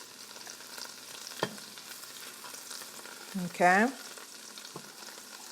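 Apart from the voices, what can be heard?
garlic cooking in butter in a pan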